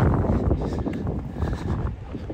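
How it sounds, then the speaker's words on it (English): Strong wind buffets the microphone in Plockton village in the Scottish Highlands, a steady loud roar with low rumbling gusts that run through the whole stretch and no voices heard. "Very windy."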